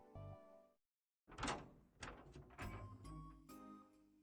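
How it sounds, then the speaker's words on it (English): Door bursting open in the video game Chaos Child: a brief rumble, a short silence, then a loud clattering thud followed by a few knocks and bumps, close and without voices. "Kunasato burst through the door and screamed."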